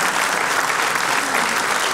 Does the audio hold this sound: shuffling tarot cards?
no